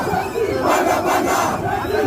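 A large crowd of young protesters in Kenya shouts together, a dense, loud roar of many voices swelling and surging continuously across the moment.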